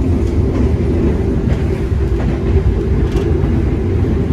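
A passenger train runs at speed on the rails in Indonesia, a loud continuous rumbling roar with rattling carriage noise and faint clickety-clack, heard from inside.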